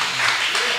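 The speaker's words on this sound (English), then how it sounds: "Let's give them a round of applause" A brief burst of audience applause at the close of a talk show, steady dense clapping with no voices.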